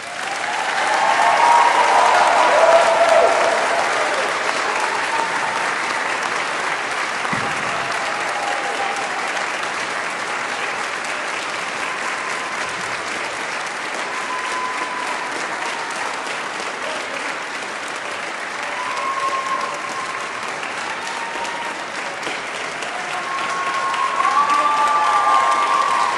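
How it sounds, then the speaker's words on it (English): A large crowd at a nursing pinning ceremony claps in a long, sustained round of applause, broad and even throughout, swelling slightly at the start and again near the end, with a few faint voices mixed in. "I'd like you to give them a big round of applause, please."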